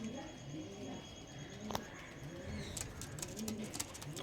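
Soft pigeon coos repeat low in the background amid outdoor ambience, with a few faint chirps and clicks scattered through.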